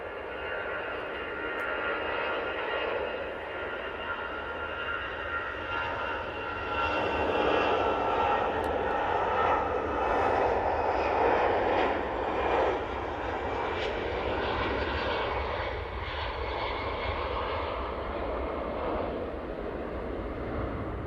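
Eurowings Airbus A320-200 on its takeoff roll at Manchester Airport bound for Dusseldorf, a sustained broad engine roar that swells to a peak midway and holds steady, heard from a distance with no talking.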